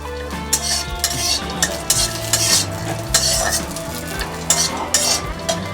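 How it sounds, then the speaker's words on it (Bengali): Cashews and raisins fry in ghee with a steady crackling sizzle, broken by repeated scraping stirs and the clink of a spoon against the pan, with quiet musical tones running underneath. "ঘি দিয়ে ভেজে নিলে কাজু কিশমিশের স্বাদটা একটু ভালো হয়"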